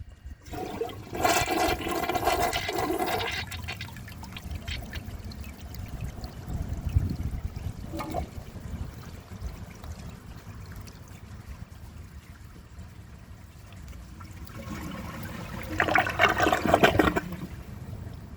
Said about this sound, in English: So I'm going to give that another flush, draining the rest of the tank.